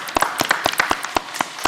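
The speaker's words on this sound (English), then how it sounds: "Give a round of applause, please." Scattered hand claps from a small audience at a school district board of education meeting, about a dozen sparse, uneven claps over under two seconds, fairly close and moderate in level.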